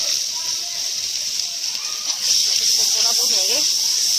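Vegetables, spinach among them, sizzle while roasting in a pan for an Indian potato and egg curry, giving a steady close hiss with crackles that grow a bit louder partway through.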